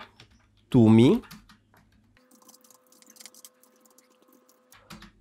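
Sparse, light clicks of typing on a computer keyboard while entering text for an HTML5 tutorial project, interrupted early by a brief, loud voiced sound, then continuing as quiet, irregular taps.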